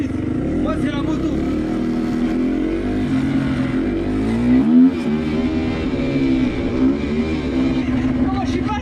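Motorcycles revving at a wild urban rodeo, their engines climbing and dropping in pitch in steady, loud, overlapping surges close by, with one deep throttle swell midway.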